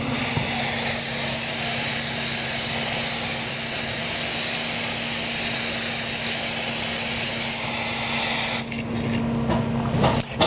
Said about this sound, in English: Grab my hose one more time and rinse it off.